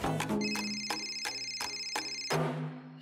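A ringing telephone in a Marathi television drama sounds at night, a loud, near electronic ring with evenly spaced bright bursts that repeat about six times before fading.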